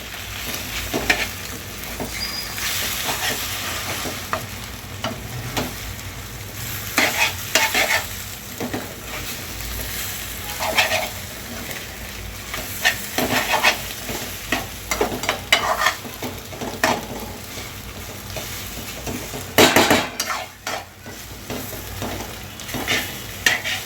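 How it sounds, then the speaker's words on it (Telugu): Meal maker (soya chunk) egg fry being tossed and fried in a pan, continuous sizzling with repeated scraping and clattering stirring strokes, close and moderately loud, with a sharp clank near the end. "ఇలా ఫ్రై చేసుకోవాలండి మొత్తం కిందకి మీదకి తిరిగేసుకుని"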